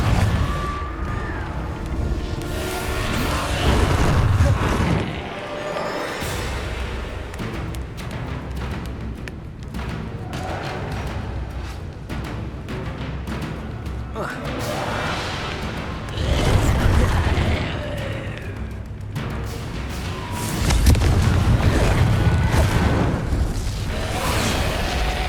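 Repeated Confringo fire-spell explosions in Hogwarts Legacy combat, with booming blasts and crashing debris rolling over a dense, continuous wash of game noise that swells louder in a few bursts.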